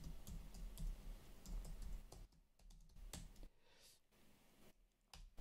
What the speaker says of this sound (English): Trying to chat, talk and type at the same time.